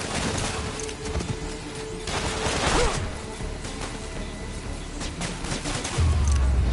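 Gunfire from enemy soldiers in the PS4 game Marvel's Spider-Man, a dense, sustained fusillade of rapid shots mixed with crashes and mechanical clatter, loud and continuous throughout.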